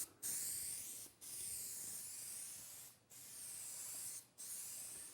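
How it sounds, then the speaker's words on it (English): Four sustained hissing sprays of contact adhesive from an aerosol can onto foam pieces, each lasting about a second or more with brief gaps between, close and fairly quiet. "I'm spraying on a contact adhesive."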